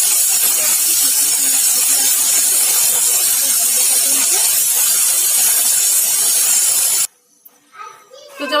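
A pressure cooker holding vegetable pulao hisses loudly with a steady, harsh rush of steam for about seven seconds, then cuts off abruptly, leaving quiet kitchen sounds.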